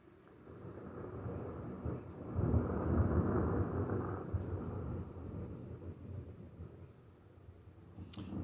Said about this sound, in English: it might be like the little thundering of the storms, which it is